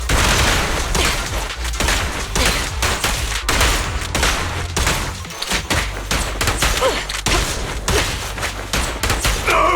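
Dense, loud gunfire from the video game Zenless Zone Zero rattles nonstop in rapid bursts, with heavy thumps and impacts mixed in and no pause across the whole stretch.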